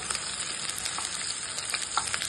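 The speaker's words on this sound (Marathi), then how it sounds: "तेल गरम करत ठेवले, त्याच्यात आपण हा उभा केलेला कांदा टाकूया" Vertically sliced onion dropped into hot oil crackles and sizzles steadily, a dense bright hiss with small pops, close and continuous with no talking.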